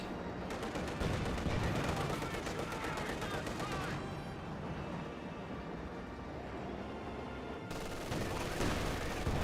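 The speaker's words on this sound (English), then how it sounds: "MG42 hits the Grenadiers and those force them back" Dense, continuous gunfire from a Company of Heroes 2 battle, with MG42 machine gun bursts rattling among overlapping shots and explosions, loud and sustained throughout, with a brief dip midway before the barrage swells again.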